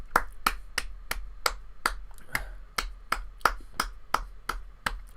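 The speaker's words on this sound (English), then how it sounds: "We'll do our minute applause along with everybody else." Slow, evenly spaced hand claps from a small group echo through a room, about a dozen sharp strikes in five seconds, in a memorial minute of applause before a Premier League football match between Chelsea and Manchester City.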